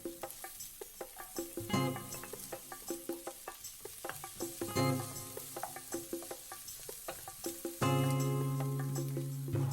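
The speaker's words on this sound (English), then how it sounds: "start frying the onions and garlic on medium heat until they're fragrant" Onions and garlic sizzle and fry in oil over medium heat in a pan, with steady rhythmic scraping and stirring taps over the continuous crackle.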